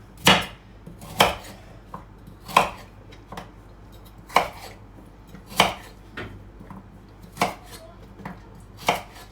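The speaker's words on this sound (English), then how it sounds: "So the carrots. Let's keep going with chopping these." A knife chops through carrots on a board in sharp, separate strikes roughly once a second, each a crisp thud with quiet gaps between.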